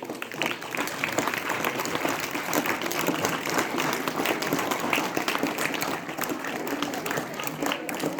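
Audience applause at a career counselling event, steady dense clapping from a crowd that holds at an even level throughout, with faint voices mixed underneath.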